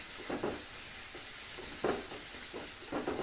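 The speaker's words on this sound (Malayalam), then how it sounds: "നന്നായി വഴറ്റി വരണം. ഒന്ന് മൂത്ത് വരണം." Spice mixture sautéing in a pan for an Onam sadya feast, a steady soft sizzle with intermittent scraping stirs of a spoon recurring every second or so, close and continuous without talk.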